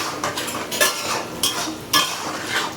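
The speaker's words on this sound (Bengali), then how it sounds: "এবার আলুটা ভাজা হবে" Salted potatoes fry in a pan while a metal utensil stirs and scrapes them, making three or four distinct clattering strokes over a steady background sizzle.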